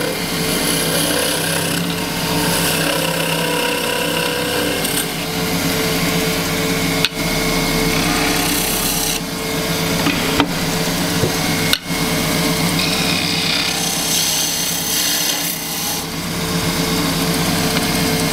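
A thin wooden spillikin stick spins on a woodturning lathe while a turning tool cuts it, giving a loud, continuous motor whine with steady scraping and a few sharp knocks.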